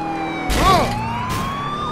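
A police car siren in the video game GTA 4 wails close and loud, with its pitch sweeping up and down over a steady engine and traffic hum.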